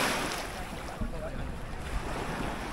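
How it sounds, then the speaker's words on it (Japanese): Small waves wash onto a calm sheltered beach on an inland bay, a steady broadband surf wash with wind noise running through the whole stretch and no voices. "ここもまあ波はちょっと若干ある感じですけど"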